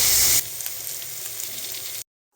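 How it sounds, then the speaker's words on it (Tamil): Loud crackling sizzle of mustard seeds, fennel, cumin, chana dal and urad dal frying in hot oil, a sharp burst at first, then a steady hiss that cuts off abruptly. "கடுகு சோம்பு ஜீரகம் கடலப்பருப்பு உளுத்தம்பருப்பு தாளிச்சிட்டு வெங்காயம் பூண்டு தாளிச்சிக்கலாம்"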